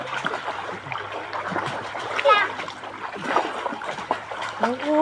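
People splash and wade in a clear, cool river, water sloshing near the microphone in uneven bursts while children and adults chatter.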